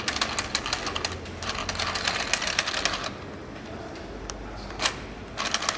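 Circular Knitic knitting machine with its wheel turned by hand, giving a rapid rattling, clicking mechanical patter that runs steadily for about three seconds, eases off, then briefly resumes near the end.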